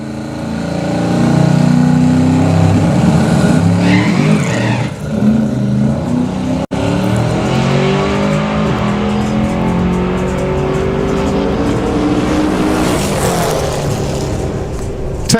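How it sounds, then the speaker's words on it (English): A 2500hp street car drag racing down the Santa Pod Raceway strip, loud and sustained engine roar with revving and wheel spin off the line, continuous through the whole stretch. "Seeing his car go down the track."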